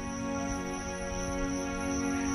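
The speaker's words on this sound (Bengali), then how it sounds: "ঝিঝি পোকার ডাক।" Crickets chirp in a steady, unbroken drone on the quiet bank of an old pond at Karnapur in Gazipur, Bangladesh, near sunset, with dense overlapping trills filling the scene and no voices.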